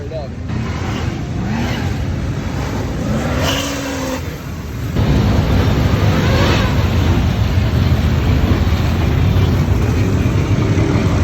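A 1000HP Duramax diesel pickup, a daily driver also used for mud bogging and racing, rumbles deep and loud at close range, getting noticeably heavier about halfway through, while someone talks over it.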